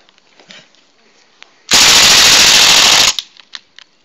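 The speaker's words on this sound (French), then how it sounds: "Donc voici le test de tir et voilà, comme je vous ai dit, le full auto n'est pas trop précis" An airsoft gas-powered Mini Uzi fires a single loud, continuous full-auto burst lasting about a second and a half, close and harsh, with quiet handling noise before and after.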